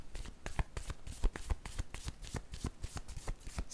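Tarot cards are riffled and shuffled close up, giving rapid repeated flicking snaps and slaps in an irregular rhythm, with no voice over them.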